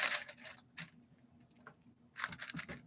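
Parchment paper handled while making a gluten-free fig pizza, short crisp rustling bursts at the start and end separated by a near-silent stretch, close and fairly faint.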